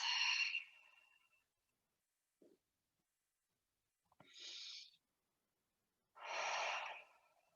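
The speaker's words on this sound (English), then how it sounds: "Slow, deep breaths." Slow, deep breaths in a quiet room during a yoga forward fold: a long exhale, then a faint catch, followed by two full breaths a couple of seconds apart, close and fairly soft.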